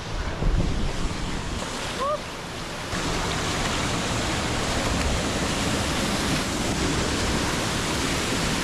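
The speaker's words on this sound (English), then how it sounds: "I think there's a waterfall right here. I can hear it." Steady broadband rushing of a desert oasis waterfall fills the scene, a constant roar close by with a brief dip partway through.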